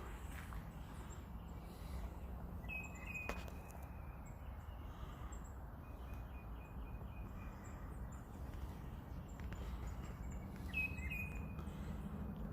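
Birds chirping in foggy woods by a lake on the first day of spring, scattered faint high tweets and short calls over a low steady outdoor hum, distant and sparse.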